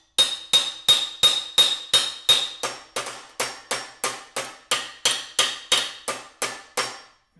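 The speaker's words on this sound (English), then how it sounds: "And just kind of hammer over the edge." A hammer striking a stainless steel sheet while shaping it over an edge, about twenty sharp metallic blows in a steady even rhythm, each ringing briefly, loud and close with no voices.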